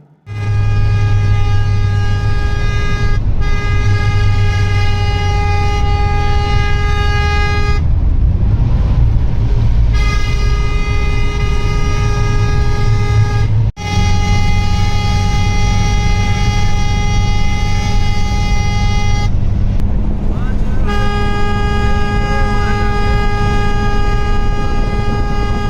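A van horn blares repeatedly during a public transport ride in Sindh, Pakistan: long, loud, sustained honks with only short gaps between them, close and dominating over the engine and road rumble.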